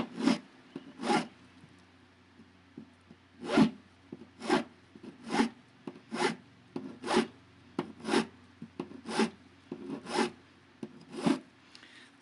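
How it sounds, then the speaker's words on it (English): A hand file rasps across the edge of wrapped jewelry wire in about fourteen evenly spaced short strokes, close and crisp, with no talking. "I kind of take the edge and I go across a couple of times to get a good edge, and then I'm going to keep filing"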